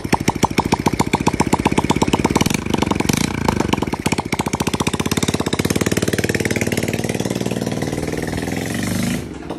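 A motorcycle engine fires up after an oil refill and settles into a loud, rapid, chattering idle with sharp, evenly spaced pulses, close by, with a brief surge partway through, before cutting off abruptly near the end.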